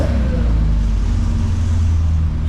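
Mark 1 Lotus TwinCam Escort engine idling steadily close by, a continuous low rumble with a strong throbbing bass and even pitch, running alone without speech, just after carb balancing and idle setting.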